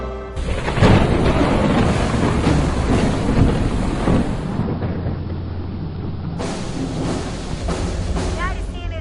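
Thunder rumbles and crashes through a heavy storm, with steady rain beneath it. The deep roar is loud and continuous and swells and fades over several seconds.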